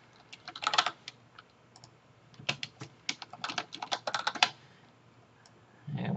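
Fingers type on a computer keyboard in a chat room, two bursts of quick, close key clacks separated by a short pause, followed by near silence and a brief low rustle at the end.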